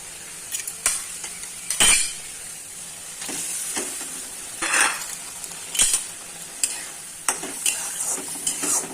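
Pointed gourd (potol) pieces going into a boiling curry, heard as steady sizzling and bubbling broken by scrapes and clinks of a utensil against the pot, close and moderately loud, with no talking.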